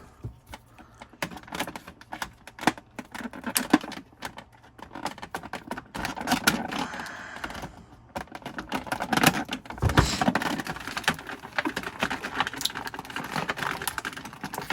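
Scissors snip the plastic packaging ties holding a large Gentle Giant Star Wars concept Luke Skywalker action figure, with close, irregular clicks, crinkles and rustling of the package throughout.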